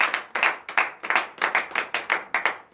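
A congregation at a morning prayer service claps along in a steady, rhythmic pattern of sharp hand claps, fairly close and loud, with no talking.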